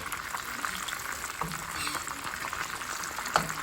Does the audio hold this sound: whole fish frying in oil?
yes